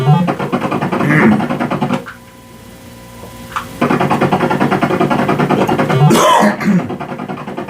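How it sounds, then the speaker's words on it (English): A harsh, raspy cough bursts out near the start, followed by a quieter pause, then another rough throaty burst later on. "I'm coughing."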